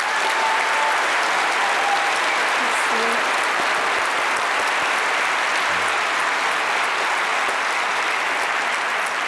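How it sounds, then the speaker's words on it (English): Sustained applause from a large audience at a Royal College of Nursing congress, a loud, even wash of clapping that holds steady for the whole stretch with faint voices underneath. "A round of applause again, please."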